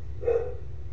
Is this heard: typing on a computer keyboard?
no